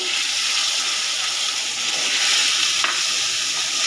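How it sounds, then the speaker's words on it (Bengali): Milk stirred into a hot frying pan gives a steady, loud hiss and bubbling sizzle, with a brief scrape of the utensil midway, no voices. "দুধটা দিয়ে ভালো করে মিশিয়ে নেব"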